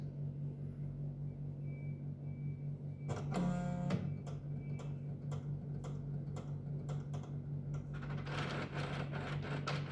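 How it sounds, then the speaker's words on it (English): A 28XX series dot matrix printer initializes after power-on: a steady motor hum runs throughout, a burst of whirring, chirping mechanical movement comes near the middle, and quicker ticking carriage clicks follow toward the end. "Allow the printer to initialize."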